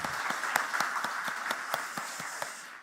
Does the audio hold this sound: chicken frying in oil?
no